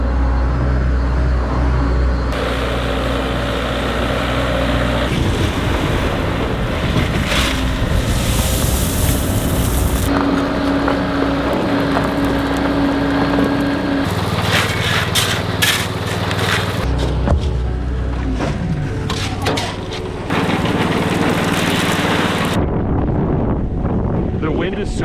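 Strong wind sweeps across a construction site where rock and sand are being moved and a tarp covers the sand pile. A loud, gusty roar buffets the microphone almost the whole time, broken by a few abrupt cuts.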